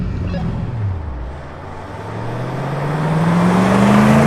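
A 1968 Ford Mustang with a C4 automatic transmission launches at full throttle in a drag race, its engine note dipping then climbing in a long rising roar as it pulls away, loud and close.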